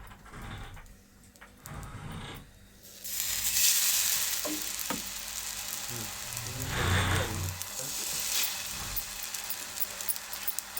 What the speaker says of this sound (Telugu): ఇలా మన దోశ ఎలా వేసుకుంటామో అలాగే వేసుకోవాలి.